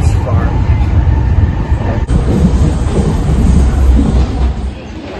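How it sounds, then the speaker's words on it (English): Train rumble and rail noise at Imamiya station in Japan, a loud, steady low roar with a brief dip midway, with people's voices mixed in throughout. "And we've reached in Imamiya train station."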